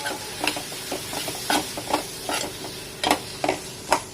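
Masala and coriander powder sautéing in a pan, with a soft sizzle under repeated scraping stirs of a spoon at an uneven rhythm, close and fairly quiet, with no one speaking.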